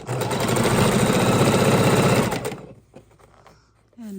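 A sewing machine stitches quilt pieces in a loud, rapid, steady whir lasting over two seconds, then stops, leaving faint handling sounds before a voice starts speaking.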